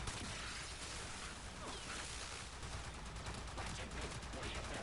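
Fire status effect burning enemies in the video game Warframe: a dense, steady roar of noisy crackle runs throughout at constant loudness, mixed with rapid bursts resembling gunfire.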